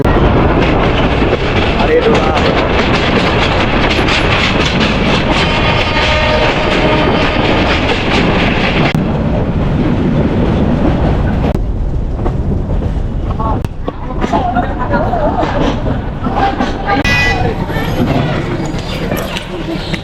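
A local passenger train between Rangpur and Parbatipur, Bangladesh, rumbles along loudly, steady rattling and clatter of the carriages with wind noise, continuing throughout without pause.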